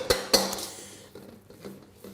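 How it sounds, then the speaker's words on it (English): A metal spoon clinks sharply twice against a bowl while mixing brown bread dough, then softer scraping and tapping continue, close and alone. "Now I'm going to swap over to my little metal spoon"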